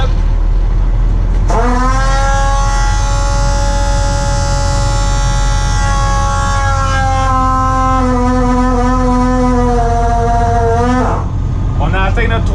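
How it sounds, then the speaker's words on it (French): A fire pump engine revs through its priming sequence, throttled between 800 and 1000 rpm. It gives a loud, steady harmonic whine that shifts pitch partway through and then cuts off near the end, over a constant low rumble. "Vous avez bien entendu le changement de son de l'amorceur"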